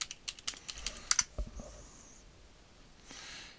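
Someone typing a password on a computer keyboard: a quick run of about a dozen close, crisp key clicks in the first second and a half, followed by soft breathing and faint hiss.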